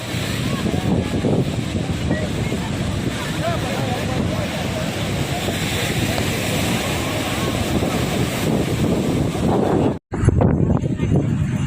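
Steady roar of waves washing on Marina Beach, Chennai, with heavy wind buffeting, continuous and loud, briefly cutting out near the end.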